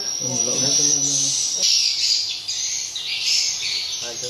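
Swiftlets inside a swiftlet house give dense, high, buzzing chirps that overlap continuously, loud and close, with a short burst of lower clicking calls at the start and again near the end.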